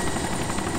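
Helicopter in the video game DayZ: a steady, dense rotor and engine roar, loud and close and unbroken, with no voices over it.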